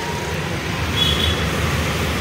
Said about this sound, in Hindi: और ये जा रही है मेट्रो